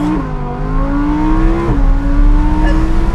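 An Audi R8 V10 Plus with a center exit exhaust revs hard in close, loud, continuous engine roar, pitch climbing and briefly dropping at quick gear shifts, with no talking.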